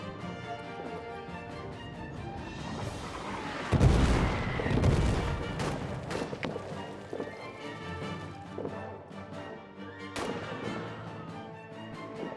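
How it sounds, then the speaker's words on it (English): Artillery barrage in the World War I trench game All Quiet in the Trenches: a heavy low boom around four seconds rolls into sustained rumbling and scattered blasts, with another sharp impact near ten seconds, all under constant battlefield noise. "the artillery barrage does not change your orders"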